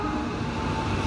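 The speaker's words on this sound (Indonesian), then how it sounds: "Udah kereta api masuk, kereta api Blambangan Express dari Tapang dengan tujuan akhir Pasar Senen Jakarta." Blambangan Express passenger train pulling into Probolinggo station, bound for Pasar Senen Jakarta; a steady, loud rumble of rolling wagons fills the platform, with no voices over it.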